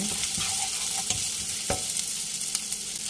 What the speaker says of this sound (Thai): หอมเจียวนี่นะเราจะเจียวจนเหลืองหอมเลยค่ะจนเหลือง